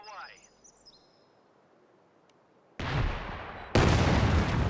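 An artillery barrage in a real-time strategy video game, with faint chirps and ambience giving way to a sudden loud rumbling roar of explosions that jumps louder again and keeps booming densely to the end.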